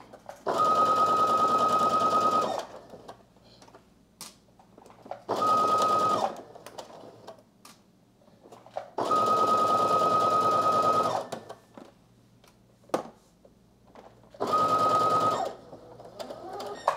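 Sewing machine stitching a 5/8-inch seam on reversible vest and shorts fabric, running in four separate bursts of steady whirring with short quiet pauses between, close and clear.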